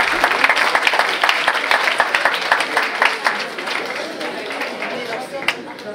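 Applause from an audience at an inter-school student pleading competition in Martinique: dense, steady clapping from a crowd that continues throughout, with voices mixed in underneath.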